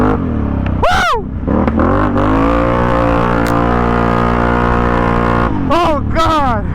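A four-wheeler ATV engine revs hard and loud while being ridden, with a steady drone broken by sharp rising and falling rev sweeps near the start and again at the end; voices are heard over it.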